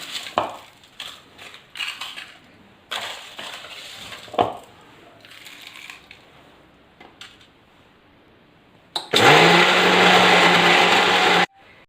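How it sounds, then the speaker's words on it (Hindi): Homemade garam masala spices are ground in a grinder machine. Scattered clinks and rattles of handling come first, then a loud, steady motor whir runs for about two seconds and stops abruptly. "अब थोड़ा थोड़ा डाल के हम इसको मशीन में अच्छी तरह से पीस लेंगे"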